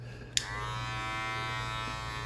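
Electric barber's hair clippers, unoiled for months, switch on with a click and run with a steady, loud mechanical buzz that holds constant to the end.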